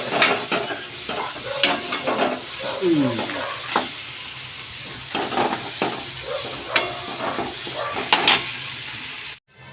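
Food is stir-fried in a little oil in a pan in a home kitchen, with loud close scraping strokes of a spatula against the pan over a constant sizzle, the stirring coming in irregular bursts.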